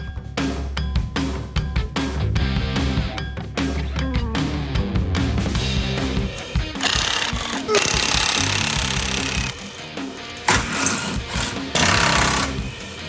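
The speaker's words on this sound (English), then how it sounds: "we had Jack with the mould grips and Charlie with the gun, and luckily, with pinching it up like that, they managed to work their way loose" Impact gun rattling in bursts while ball joints on an Audi TT are worked loose during a steering rack replacement, loud and close, with clanks of tools and workshop noise throughout.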